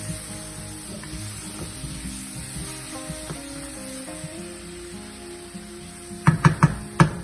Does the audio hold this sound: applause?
no